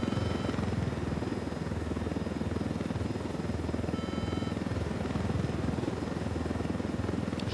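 A helicopter's rotor thumps and engine drone hold steady and loud throughout, a continuous mechanical whir with no voices, in the video game Ghost Recon Wildlands.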